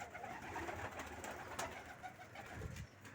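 Soft, low pigeon coos repeat a few times against faint background noise, fairly close but quiet.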